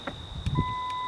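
A Ford F-150 pickup with a window fault sounds a warning chime: a steady electronic beep tone sets in partway through and holds to the end, with a faint click and a brief rustle in a quiet cab.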